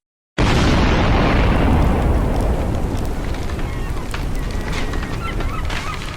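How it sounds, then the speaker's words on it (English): An explosion sound effect in an audiobook opens with a sudden loud boom that decays into a long, roaring, crackling rumble lasting several seconds, with no narration over it. "A deafening explosion shook the buildings near the port of Lisbon"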